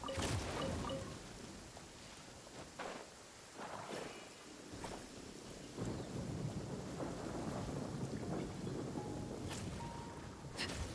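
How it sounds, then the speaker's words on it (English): Rain and rumbling thunder from the video game Genshin Impact form a soft, continuous wash of rainfall, with several low thunder rolls swelling and fading at moderate volume. "the sound of the rain and just like wandering around is so relaxing"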